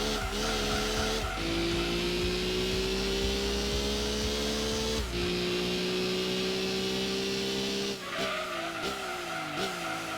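A GT 500 race car in Gran Turismo 2 drones at high revs. The engine pitch climbs steadily between sharp gear changes, and a tire squeal runs underneath. It stays loud and close throughout, with no talking.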